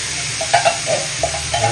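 Pure Foods corned beef sautéing in a pan, a steady sizzle broken by several short scraping stirs from a spoon, close and fairly loud with no talk.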